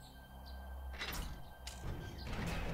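A powered door in the video game 7 Days to Die slides shut with a couple of mechanical whooshes and thunks over a low background hum, moderately quiet.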